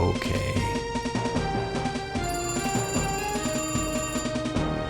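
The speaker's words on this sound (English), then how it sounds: "The phone's ringing if you can't hear the sound effect." Home telephone ringing as a sound effect in the video game Beyond Eden: a loud, steady electronic ring repeating over busy background music throughout.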